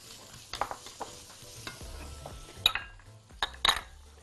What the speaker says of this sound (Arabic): تقلبتين تلاتة كده